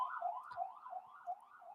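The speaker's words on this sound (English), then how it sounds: "Jeez, these sirens today, right?" Emergency vehicle siren wailing outside, a rising and falling electronic tone cycling steadily, distant and fairly faint, heard alone.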